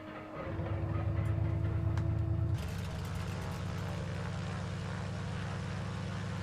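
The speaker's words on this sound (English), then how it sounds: "Good radial engine sounds." The radial engine of an HGC Spartan 7W Executive in Microsoft Flight Simulator coughs into life and settles into a loud, steady, throaty drone, rough and pulsing with a deep low rumble.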